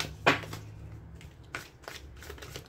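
Cards shuffled for a weekly tarot-style card reading, a brief riffle burst near the start followed by softer handling noises, close and quiet with no talking.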